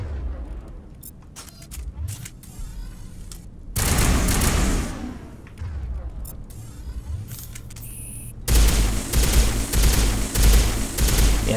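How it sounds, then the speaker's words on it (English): Sniper rifle fire in the video game Mass Effect 1 Legendary Edition, heavy booming shots and bursts of gunfire over a continuous game soundscape, loudest near the end, with faint talk underneath. "Yeah, this is sniper rifle, by the way."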